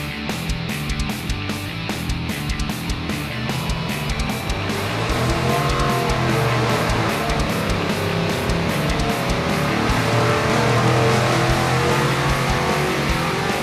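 A World Products Warhawk LS7 454 V8 runs on a dyno, giving a loud, continuous roar that builds steadily in a shop setting.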